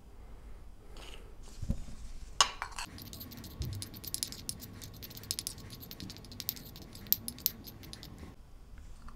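A spoon clinks and rattles against a vessel while soda and sugar are stirred together for a chemistry experiment, a series of close, sharp metallic taps and scrapes scattered irregularly throughout.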